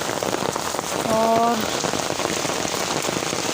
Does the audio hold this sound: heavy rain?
yes